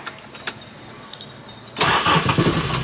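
An old 1970s Toyota Crown MS55 engine cranks and catches, roaring to life loudly after a few quiet clicks, then settling into a rough idle.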